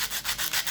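Sandpaper rubbed by hand over turquoise inlay jewelry, five steady back-and-forth strokes with a dry, hissing scrape, close and alone.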